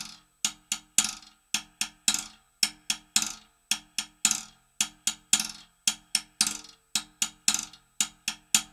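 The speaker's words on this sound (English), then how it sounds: "The quarter note is buzzed, and the eighth notes are just single hits on the rim." Cha-cha-cha rhythm on a single snare drum, sharp rim clicks for the eighth notes and short buzzed strokes on the quarter notes, in a steady, even pattern of crisp hits with no talk.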